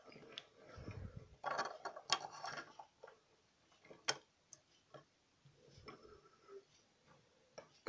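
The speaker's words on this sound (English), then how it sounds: "the backhoe machine moves up and down" Toy Bob the Builder backhoe arm being moved up and down, faint close plastic clicks and ratcheting ticks in uneven bursts, with small handling knocks.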